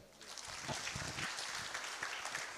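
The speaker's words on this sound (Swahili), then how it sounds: "Makofi yake tafadhali." Audience applause at a youth dialogue session in Mombasa, a short burst of steady clapping from a crowd in a hall.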